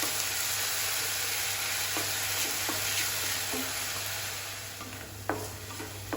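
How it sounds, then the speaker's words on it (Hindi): Onion paste fries with a soft, steady sizzle in a pan for masala arbi, punctuated by a few scattered stirring scrapes and taps, the hiss easing slightly toward the end; no talking. "अच्छे से मिला लेंगे और प्याज को अच्छे से भून लेंगे"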